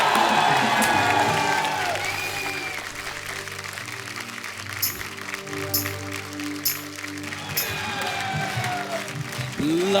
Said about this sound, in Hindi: मंच पे बुलाने जा रहा हूं आप सबकी जोरदार तालियों के बीच